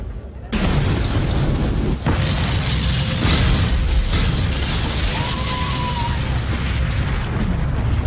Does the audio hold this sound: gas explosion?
yes